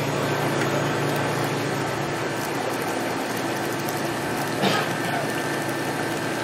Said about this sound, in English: The machine's going to mix it now.